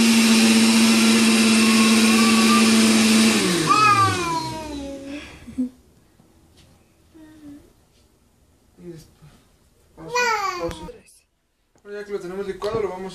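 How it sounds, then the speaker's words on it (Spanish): A kitchen blender runs on hot mushroom soup with a steady whine, then spins down with a falling pitch. Quieter handling noises follow, and a voice speaks near the end. "Vamos a licuar para que no brinque."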